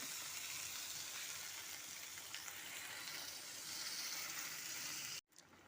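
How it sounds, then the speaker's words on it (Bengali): Spiced potato curry gravy boiling in a pan, a faint but steady bubbling hiss that carries on evenly before stopping abruptly just before the end. "ঝোলটা ভালো মতো ফুটে গেছে"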